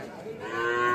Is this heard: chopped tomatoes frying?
no